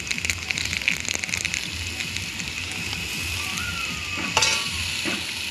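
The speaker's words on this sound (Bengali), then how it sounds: "এদিকে কড়াইতে আমি একটু কালো জিরে দিয়ে দেবো, একটু কালো জিরে দিয়ে দিলাম।" Black cumin seeds sizzle in hot oil in a wok, a continuous crackling hiss with scattered pops and a few louder stirring scrapes near the end, close up and without speech.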